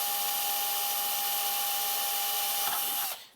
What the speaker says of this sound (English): and then drill through